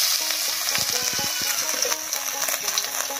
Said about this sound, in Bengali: এবার ফোড়ন দেব, আর ফোড়নটা দেব আমি জিরা, তেজপাতা, শুকনো লঙ্কা আর আদা কুচি দিয়ে।